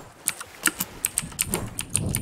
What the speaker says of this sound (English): you guys can even hear my keyboard